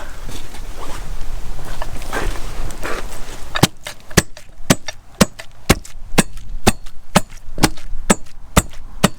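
Fish being smashed into shark chum: after a few seconds of muffled shuffling, a steady series of sharp, hard close-up whacks lands about twice a second, one piece at a time, with no talking.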